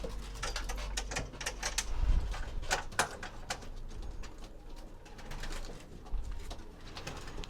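Young pigeons cooing, bred and flown by their keeper, with soft repeated coos and light wing and bird sounds close by, with no talking.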